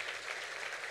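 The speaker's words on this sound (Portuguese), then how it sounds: "Palmas para todos vocês." Applause from the audience at a school's 35th-anniversary ceremony: a dense, even patter of many hands heard at a modest distance, steady and unbroken with no one talking.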